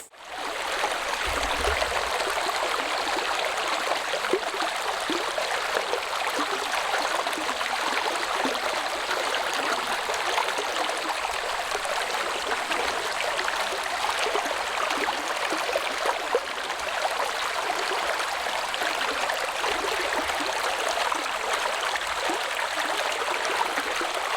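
Mountain stream flowing through Deoksan valley in Jangsu, a steady, full rush and burble of water close by, continuous and even throughout with no talking.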